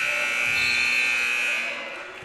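A loud, sustained electronic buzzer sounds in a school gym at a varsity basketball game to end the half, one continuous harsh tone that fades slightly at the end.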